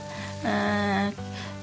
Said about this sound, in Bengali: আর 1 টিস্পুন কালো জিরে ফোড়নে অ্যাড করে দিলাম।